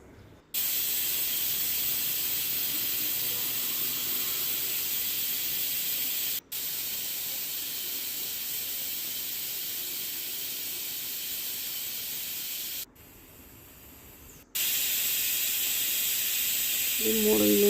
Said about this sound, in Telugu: ఇప్పుడైతే 3 విజిల్స్ వచ్చేదాకా వెయిట్ చేద్దాం